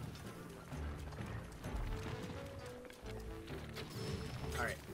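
A horse galloping in Zelda: Breath of the Wild, quiet steady hoofbeats mixed with game effects and music, with someone talking over them.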